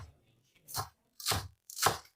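A knife roughly chops green onions on a board for fried rice, giving three distinct, close, crisp chops spaced about half a second apart, with quiet pauses between them.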